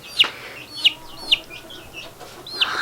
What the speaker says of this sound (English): let's show you guys these beautiful baby chicks